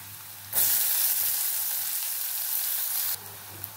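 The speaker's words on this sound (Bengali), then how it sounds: "চলো পেঁয়াজটাকে একটু লাল লাল করে ভেজে নেবো।" Chopped onions hit a hot pan and sizzle loudly, a bright steady frying hiss that starts abruptly, holds for about two and a half seconds, then drops back to a quiet hum.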